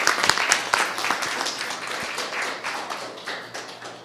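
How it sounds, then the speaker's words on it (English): Audience applause at a body language talk show, a room of people clapping steadily for a guest, with a few sharper nearby claps early on, fading gently. "round of applause for Devin"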